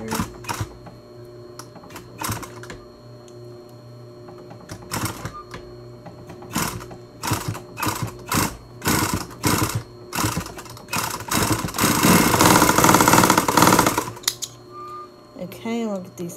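A sewing machine stitches a DIY fabric mask in short, stop-start runs of rapid mechanical whirring. Near the end comes a longer continuous burst, and a person talks between the runs.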